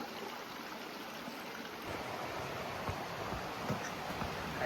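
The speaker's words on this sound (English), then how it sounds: "Nice big creek section." Big creek on the Appalachian Trail rushing steadily, a dense continuous wash of flowing water close by with no voices.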